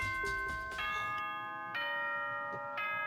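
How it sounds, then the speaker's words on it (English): A bright ringing chime from the video game Danganronpa: Trigger Happy Havoc, a sustained bell-like tone that sounds in three layered strikes over a steady electronic backdrop, moderately quiet. "Ding dong bing bong."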